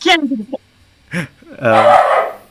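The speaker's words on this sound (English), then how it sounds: "God damn it, stop barking" A dog barks a couple of times close by, sharp and yelping, with a whiny, growly vocal stretch at the end.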